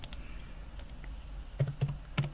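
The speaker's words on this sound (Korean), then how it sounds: "숫자를 타이핑을 해줍니다" Keys tapped on a computer numeric keypad while numbers are entered, a few sharp distinct clicks near the end after faint earlier taps, close and quiet over a low room hum.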